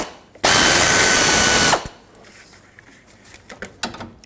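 A power tool runs in one loud, close burst of about a second and a half while removing the 12mm bolts on a radiator bracket of a 2003-2008 Subaru Forester, followed by quieter metallic clicks and handling of parts.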